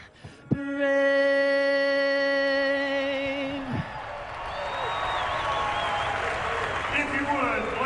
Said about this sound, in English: please give Mr. James Maslow a nice round of applause